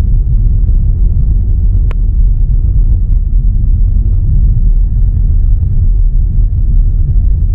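A car coasts at 60 km/h with its fuel cut off, making a loud, steady low rumble of road and engine noise from inside the cabin. One brief click breaks the drone, and nobody speaks.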